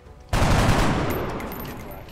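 A single sharp gunshot from the turn-based strategy game XCOM: Long War bursts in loudly after a brief quiet, then rings out in a long decaying echo with no talking.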